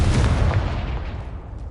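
A single Confringo fire spell explodes in Hogwarts Legacy, a loud deep boom that rolls out and fades over about a second and a half.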